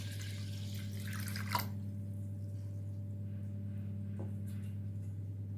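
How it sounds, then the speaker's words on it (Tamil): Water pours and splashes onto a quarter kilo of sesame seeds in a bowl for washing, with a brief louder splash partway through over a steady low hum and no talking. "அதில் இன்னும் கொஞ்சம் தண்ணி சேர்த்துக்கலாங்க."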